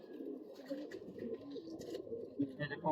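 Pigeons coo softly and continuously in a loft, a low murmuring burble, with faint higher chirps and background noise mixed in.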